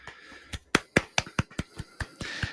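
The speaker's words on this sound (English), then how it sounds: "Golf clap." A short run of about ten sharp, separate hand claps, slow and evenly spaced like a polite golf clap, close and fairly quiet with no voices.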